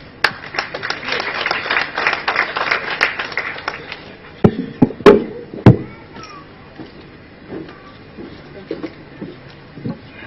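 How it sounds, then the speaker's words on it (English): An audience claps at a live event marking World Day Against Child Labour, a dense burst of applause that thins into scattered, separate claps with a few louder close hand claps. "let us appreciate, let us give him, hand clap"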